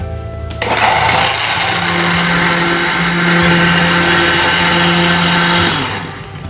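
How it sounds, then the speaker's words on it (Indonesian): An electric blender whirs loudly and steadily, close by, as it purees mango into smooth juice, starting abruptly and cutting off near the end. "Kita blender sampai halus."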